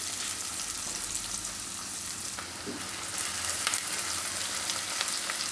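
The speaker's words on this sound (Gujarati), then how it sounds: "ડુંગળી આપણે થોડીક વાર આમાં ચડવા દેવું" Onions fry in a pan for dahi paneer, a continuous close crackling sizzle with faint stirring scrapes, loud and steady, with no voices.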